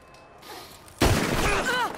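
Gunshot in Red Dead Redemption 2 during a tense standoff, a sudden loud blast that cuts in after a quiet start and rings on with a voice underneath.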